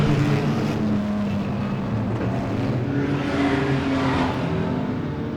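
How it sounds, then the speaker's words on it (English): Super saloon race cars roar around the dirt oval at Beachlands Speedway in Dunedin during the South Island championship, a dense, continuous engine drone from several cars at once, loud and unbroken with no talk. "Peter Knight is flying in the 27 car."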